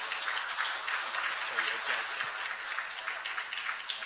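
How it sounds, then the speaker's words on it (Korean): Audience applause at an international patent court conference session on pharmaceutical and biotech inventions, a steady sustained clatter of many hands clapping throughout, fairly even in loudness with no voices standing out. "발표를 진행해 주신 연사분들과 우성혁 고법 판사님께 다시 한번 큰 박수 보내주시기 바랍니다."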